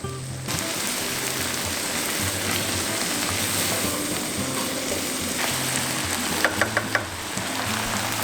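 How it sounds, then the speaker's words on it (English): Chopped onion, carrot and green onions frying for fried rice, a dense, loud, continuous sizzle with a few small crackles near the end, close and without speech. "Let's add in the 4th onion chopped, the 4th of a carrot chopped,"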